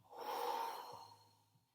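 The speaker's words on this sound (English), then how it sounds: "And then a big exhale and let all that air out." A single long, breathy exhale during a guided Pilates and meditation cool-down, starting full and trailing off gradually as the air is released, close and fairly quiet.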